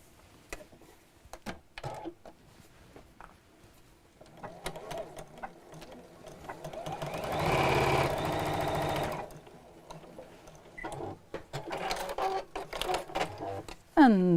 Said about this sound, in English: we'll sew straight across